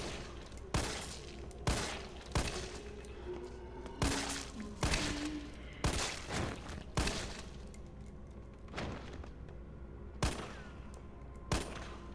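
Repeated bursts of rapid gunfire at zombies in the video game Resident Evil 3 Remake, sharp loud volleys spaced irregularly over a steady background hum, with no talking.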